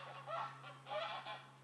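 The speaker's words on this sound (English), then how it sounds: "Birds, lots of birds." Geese honking outdoors at an airgun shooting range, two or three rough nasal honking bursts at moderate distance over a low steady hum.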